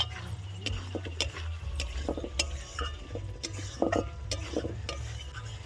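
Egg curry with chopped tomato and slit green chilli being stirred and fried in a pan in a village-style kitchen, with repeated utensil scrapes and clinks over a steady low sizzle, close and moderately loud.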